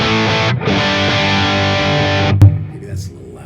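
Electric guitar played through a Mesa Mark V amp in Mark II mode into a slant cabinet with Greenback speakers; a loud, distorted sustained chord rings, briefly dips, then cuts off with a thump into quiet room noise.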